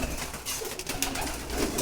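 Pigeons coo softly and continuously while being fed their morning meal, with rustling, close but quiet, and no talking.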